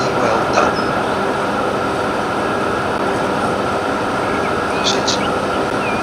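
A train in Transport Fever 2 rolls along steadily, a loud continuous rumble of wheels and engine with faint high squeals near the start and end, while a person talks over it.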